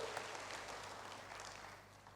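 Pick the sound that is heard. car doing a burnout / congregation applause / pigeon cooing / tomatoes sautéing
congregation applause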